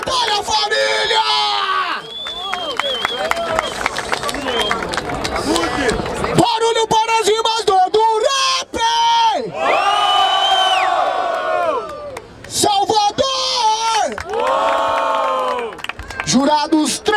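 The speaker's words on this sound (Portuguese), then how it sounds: "Palmas pra essa batalha, família!" An audience at a rap battle event in Barueri claps and cheers loudly, with whoops and shouts rising in bursts around a host's voice booming over the crowd between pauses.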